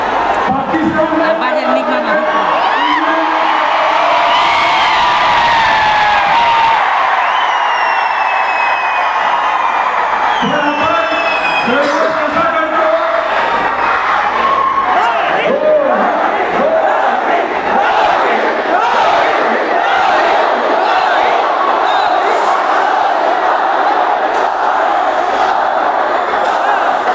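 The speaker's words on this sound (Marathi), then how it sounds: "रोहित भाऊ शर्मांच्या आवाजाचा जल्लोष इतका मोठा झाला पाहिजे की इथून पाकिस्तान" A large crowd at an academy event roars and cheers loudly for cricketer Rohit Sharma, a continuous dense wall of shouting and whoops that runs unbroken throughout, with voices rising over the din.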